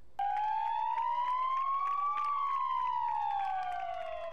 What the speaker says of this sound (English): First responders showed up with lights and sirens on